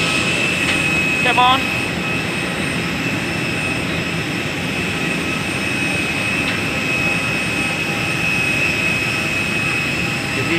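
Jet aircraft engines roar steadily at Syamsuddin Noor airport in Banjarmasin, a loud continuous whine and rumble with a brief spoken word near the start.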